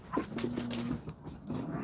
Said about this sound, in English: Rick had some new puppies.